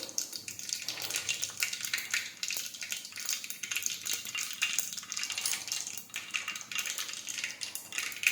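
Mustard seeds, cumin and asafoetida crackle in hot oil for a cluster bean curry, a steady close spitting sizzle with faint stirring clinks of a spoon against the pan throughout.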